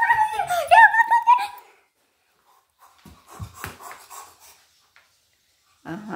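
A young child imitates a dog with high, yelping, giggly barks and panting, loud and close, followed by a pause, some faint shuffling and a short burst at the end.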